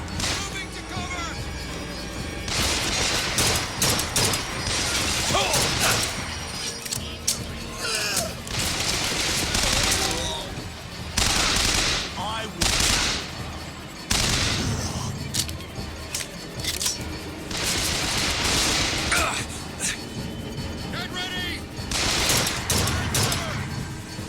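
Gunfire in the video game BioShock Infinite Remastered, dense rapid bursts and volleys repeating throughout alongside loud game effects, with a person talking over the action.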